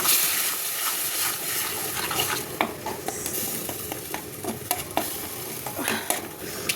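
Onion-tomato paste poured into hot oil for a fish curry, giving a steady close sizzle with stirring scrapes and small clinks from the pan, with no talking.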